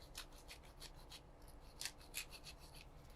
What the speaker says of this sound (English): I'm going to add a little bit of fresh ground pepper and a pinch of salt.